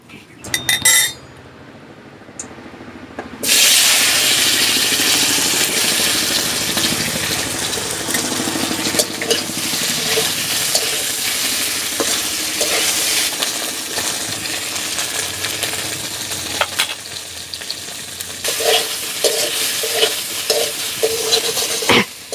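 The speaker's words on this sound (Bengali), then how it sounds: "আলু ভাজবো, আলুটা ভেজে নেব প্রথমে।" Potatoes frying in oil for a chicken feet dish, a loud close sizzle that starts abruptly after a brief quiet stretch and holds steady, with metal spatula scrapes and clinks against the pan.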